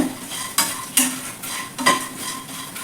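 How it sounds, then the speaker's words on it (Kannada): Crispy jowar roti chuda frying and being stirred in a pan, a steady close sizzle broken by several sharp scraping stirs and utensil knocks against the pan. "ಇದನ್ನು ಸ್ವಲ್ಪ ಕ್ರಿಸ್ಪಿ ಆಗೋವರೆಗೂ ನೀವು ಈ ಥರ ಫ್ರೈ ಮಾಡಬೇಕಾಗತ್ತೆ"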